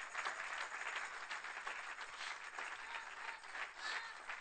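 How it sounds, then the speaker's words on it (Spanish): Steady, sustained clapping from a congregation fills an evangelical church service, a continuous dense patter of hands without a break. "Dale ese aplauso al Señor, hermano."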